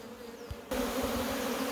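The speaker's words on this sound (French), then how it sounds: "il y a un peu plus d'abeilles qui retournent à l'emplacement initial" A swarm of honeybees buzzes around a hive during swarm collection, a dense continuous drone that suddenly grows much louder partway through, close and steady with no talking.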